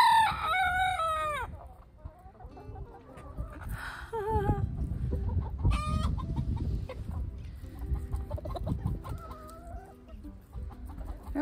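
A farmyard rooster crows and clucks urgently, calling hens back into the coop under a hawk threat, with other hens clucking nearby and a person briefly speaking.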